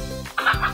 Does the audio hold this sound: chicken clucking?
yes